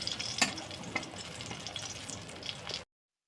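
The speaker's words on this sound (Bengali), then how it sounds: "মাছ ভাজা হয়ে গেছে" Fish frying in hot oil for a home birthday meal gives a steady crackling sizzle with sharper pops and spatters, close and continuous before cutting off abruptly.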